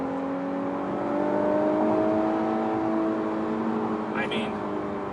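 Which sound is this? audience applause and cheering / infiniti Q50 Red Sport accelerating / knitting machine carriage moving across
infiniti Q50 Red Sport accelerating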